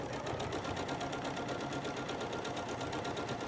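A sewing machine stitches a quilt block in a steady, continuous run, its fast rhythmic needle chatter close and even throughout with no voices.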